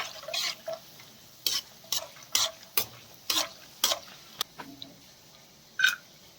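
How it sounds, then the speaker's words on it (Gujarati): Peanuts and cashews frying in hot oil while being stirred, heard as a faint sizzle under repeated sharp scraping clicks of a spoon against the pan; no talking. "કાજુને તળાતા વાર નથી લાગતી એટલે બંને વસ્તુને ગોલ્ડન બ્રાઉન કલરના થાય ત્યાં સુધી તળી લઈશું"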